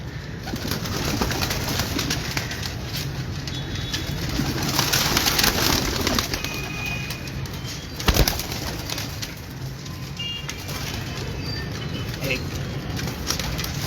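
Ferozpuri pigeons coo softly in a steady murmur in Gowalmandi, Lahore, with occasional wing flaps and a brief clatter partway through, no talking heard.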